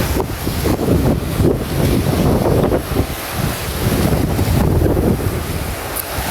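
Strong sea waves roll and crash continuously at the shore while heavy wind buffets the microphone, a loud, rough roar with no talking.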